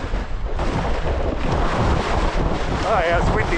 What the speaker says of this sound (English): Oh yeah, it's windy as.